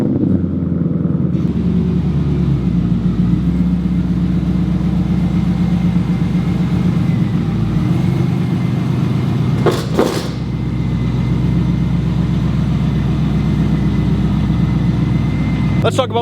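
A Chevrolet Corvette C5 Z06 idles steadily with a deep, throbbing rumble, loud and close throughout, while a person talks over it and a brief rustle cuts in partway.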